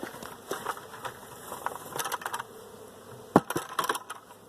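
Honey bees buzz faintly around a hive during a spring mite check, with scattered short buzzes passing close and light taps and clicks of hive handling.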